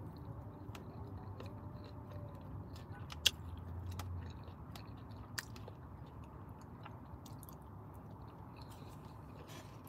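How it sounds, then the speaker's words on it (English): Quiet chewing and biting while a dinner is eaten inside a van in summer, soft crunches and mouth noises with a few sharper clicks, close to the microphone with a low steady hum underneath. "If y'all don't like eating sounds"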